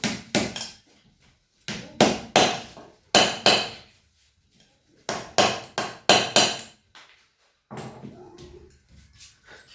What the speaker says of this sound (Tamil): ஒரு ஆயில் சீல் ஃபுல்லாக ஒரு பேரிங் இன்ஸ்டாலர் வச்சுட்டு நீங்கள் வந்து லைட்டாக வந்து டேப் பண்ணிங்கன்னா போதும்